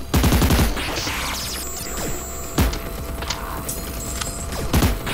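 Bursts of gunfire in a VR shooter, several rapid clustered shots at the start and end, with loud mechanical clanks and a steady hum between them.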